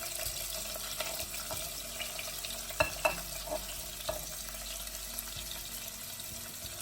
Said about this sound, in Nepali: यसलाई चाहिँ राम्रोसँग चलाएर तेलमा फ्राई गरौँ।